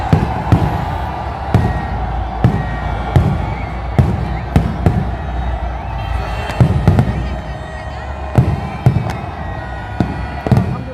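Fireworks crack and boom over Minar-e-Pakistan in Lahore for Pakistan Independence Day, sharp bangs firing at irregular intervals over a constant crowd murmur and ambient roar.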